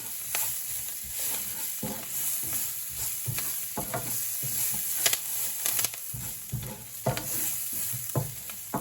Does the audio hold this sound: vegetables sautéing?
yes